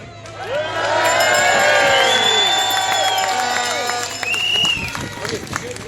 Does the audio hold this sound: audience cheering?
yes